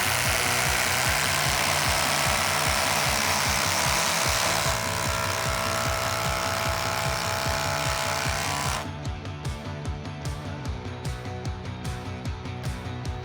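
A Milwaukee M12 impact driver sinks a 5-inch timber lock screw, a loud continuous rapid hammering rattle that runs steadily, then changes pitch and thins out partway through as the screw seats.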